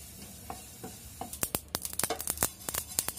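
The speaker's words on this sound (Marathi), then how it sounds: "आपल्याला जिरं टाकायचं एक चमचा पॅन तापलाय आपला अगदी हलकसं भाजून घ्यायचे आपल्याला" A spoonful of cumin seeds is lightly dry-roasted in a hot pan for a garlic-coconut chutney. A few soft ticks give way to a quick run of sharp, close clicks and scrapes as the seeds are stirred.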